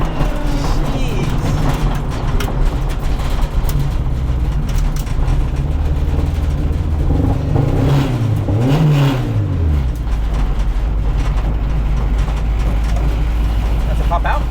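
Turbocharged 1992 Honda Civic EG engine roars loudly from inside the car during a ride-along, droning steadily with a rising and falling rev sweep midway, while people talk over it.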